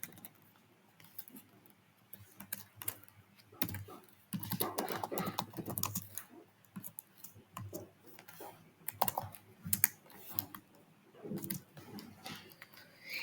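Fingers type quickly on a computer keyboard while writing Python code, producing a steady run of quiet clicks that bunch into busy bursts and brief pauses.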